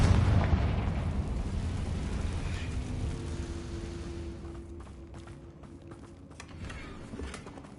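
A Confringo blasting spell from Hogwarts Legacy goes off as a loud, deep boom, then fades into a long rumbling tail with scattered crackles as the blast dies away.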